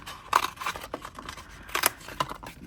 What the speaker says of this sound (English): So I'm just going to chop that off there, cut that bit away